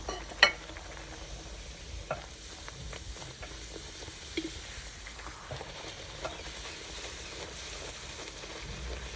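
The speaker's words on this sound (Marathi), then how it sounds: "आपला भटुरा लाटून तयार झालाय तो आता आपण तळून घेऊ" Bhature, rolled wheat flatbreads, frying in hot oil in a home kitchen, giving a steady soft sizzle with a few sharper spatters and clinks near the start, no voices.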